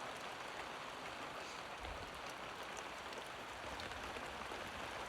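Light rain falls in a steady, even hiss of fine drops that holds at the same level throughout, with no voices.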